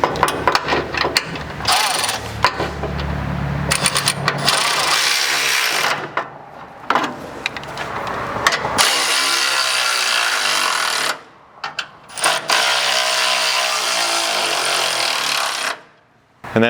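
A power tool drives M8 bolts holding a bumper wing brace to the frame while a rear strike bumper goes onto a 4th-gen truck: loud, harsh mechanical bursts run several seconds each, broken by brief silent pauses between bolts.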